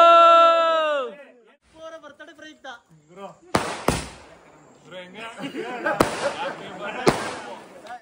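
Firecrackers burst at an outdoor birthday celebration: several sharp, loud cracks and pops ring out in sequence amid busy crowd noise and cheering voices, after a singing voice at the start.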